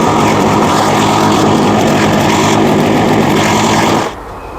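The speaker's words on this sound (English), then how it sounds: "I'm going to see if I can successfully weld it to that." Steady, loud buzzing crackle of metal welding as a novice joins two pieces of metal, running continuously for about four seconds before cutting off abruptly.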